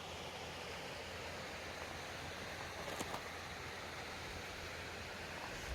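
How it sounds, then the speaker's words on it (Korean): A mountain stream flowing through a valley in rural Jeongseon, Gangwon, below an empty house; a steady, broad rushing wash of water heard alone from a short distance. "물소리 들리시죠"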